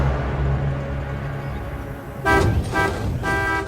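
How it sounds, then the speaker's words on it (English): A hill station bus sounds its horn in three loud, blaring blasts, each separated by a short gap, over a low rumbling engine and road noise. "with a great blaring of horns, one of the hill station buses swings past"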